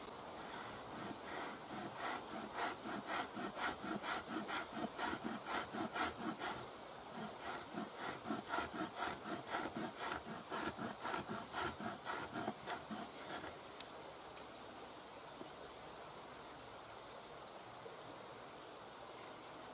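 Someone scrapes and shaves wood by hand with a parang blade, a quick run of close rasping strokes over the first thirteen seconds before the sound thins to quieter, sparse scraping.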